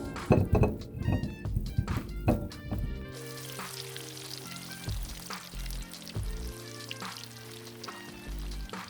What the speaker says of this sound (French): Donc maintenant ce qu'on va faire, c'est qu'on va passer à la friture de la pomme de terre.